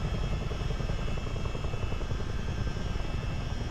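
A CH-47D Chinook helicopter in flight in a flight simulator game, a continuous dense rotor and engine drone with fast rhythmic blade thumping, steady and close with no speech.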